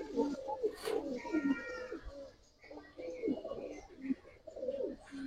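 Cobra silver pigeons coo in soft, repeated throaty bursts at close range, interrupted by short pauses, with a quiet room behind them.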